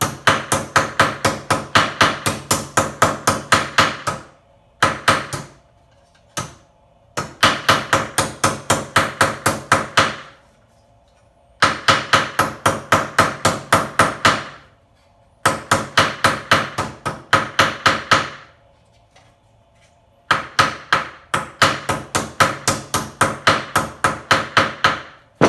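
Hammer tapping sheet metal flat on a 2006 2500 truck door panel: loud, close bursts of rapid metallic blows in regular rhythm, each run lasting a few seconds and separated by brief pauses.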